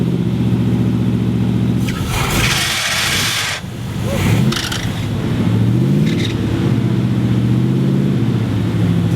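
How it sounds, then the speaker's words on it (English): A Corvette engine fitted with new mufflers idles and revs up close, a rumbling exhaust with rising and falling swells and bursts of hissing noise, running on without speech. "eventually we had it all put back together well enough to fire it up and listen to our new mufflers"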